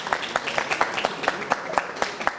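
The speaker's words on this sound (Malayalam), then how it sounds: "കൈയടിച്ച് സ്വാഗതം ചെയ്യാം" Studio audience clapping to welcome a contestant onto the stage of a Malayalam comedy game show, a steady close patter of claps running throughout.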